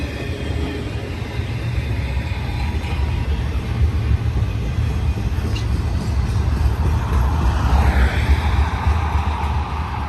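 Two freight trains running side by side at the same speed toward Cajon Pass, a continuous heavy low rumble and wheel roar passing close by, steady and loud throughout with no talk.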